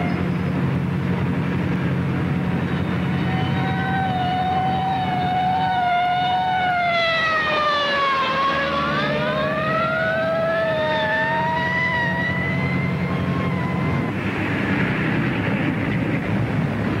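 Police car siren from a vintage patrol car, wailing tones sweeping up and down loudly and continuously over a steady engine rumble, with a second siren briefly overlapping mid-clip.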